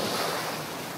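Ocean surf at Waikiki beach in Hawaii, a steady loud wash of breaking waves and rushing water with wind buffeting the microphone, no voices.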